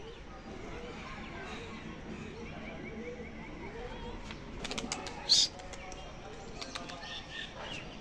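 Soft, low pigeon cooing in the background with a few brief chirps and wing flutters over faint outdoor noise and murmuring voices.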